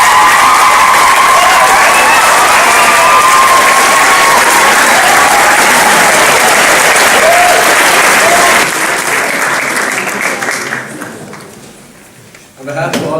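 A school audience gives sustained loud applause for three schoolgirls, dense clapping with some cheering that holds steady, then thins and fades toward the end.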